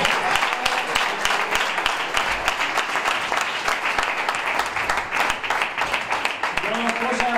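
Applause at a PSOE election-night gathering in Monterrubio de la Serena, 2015, greeting the incoming mayor: steady, dense clapping from a roomful of supporters throughout, with voices mixed in and a few louder claps close by.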